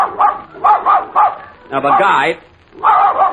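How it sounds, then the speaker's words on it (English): A dog barks repeatedly in an old-time radio comedy broadcast, several short bursts spaced between stretches of talk, fairly loud and near, mixed in with voices. "must your dog bark when I'm talking?"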